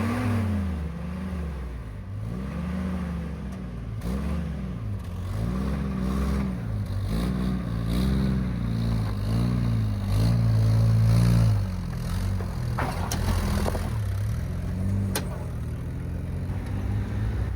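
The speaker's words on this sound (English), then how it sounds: "Preston's Jeep is a military Jeep. It's a 1951" A 1951 M38 military flat-fender Jeep crawls along a rough off-road trail, its engine revving and surging in uneven waves, close and loud, with clattering and scraping from the chassis and no voices.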